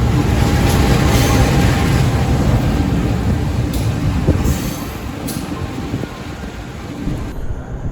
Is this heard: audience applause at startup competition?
no